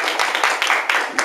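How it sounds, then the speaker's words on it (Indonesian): An audience at a lecture by Professor Kurniawan applauds in a brief, dense wash of clapping hands that holds steady throughout. "beri sekali lagi tepuk tangan yang sangat meriah untuk Profesor Kurniawan"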